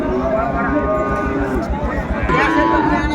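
Cattle at a Sahiwal bull market in Dinajpur low and moo amid steady crowd chatter and people talking nearby.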